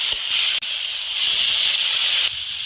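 Water poured into a hot pan of tomato for a fish curry hisses loudly with steam, a sustained bright sizzle across the whole moment with a brief break near the start.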